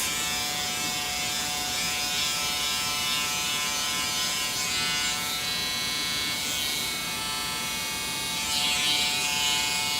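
Electric hair clippers with a guide cutting a woman's hair, producing a constant close buzzing hum that holds steady for the whole stretch with slight swells, no talking.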